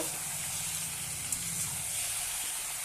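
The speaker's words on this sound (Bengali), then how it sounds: "মাংস, আলু, চামড়া এগুলো একটু ভালোভাবে ভেজে নেব।" Chicken pieces, potatoes and skin fry in a pan with a continuous even hiss and sizzle, close up, and no talking.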